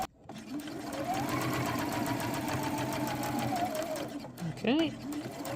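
A sewing machine stitches quilt fabric for a 3D quilted triangle Christmas tree in a steady mechanical whir with a rhythmic needle chatter, running close and continuous before stopping briefly as someone speaks a short word.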